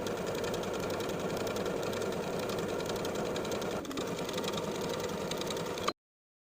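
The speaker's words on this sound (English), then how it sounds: "Now I'll edge stitch along that inner fold from one side to the other." A home sewing machine runs steadily while edge stitching along the inner fold of a rolled hem on a wrap skirt ruffle, a continuous close whirring hum until it stops abruptly.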